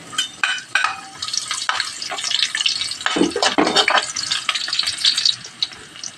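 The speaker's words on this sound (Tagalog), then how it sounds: "Uunahin ko yung luya. Sunod ko yung bawang." Ginger and then garlic sautéing in a hot pan as the start of ginataang santol, a loud, close, steady sizzle broken by scraping stirs, with no voices.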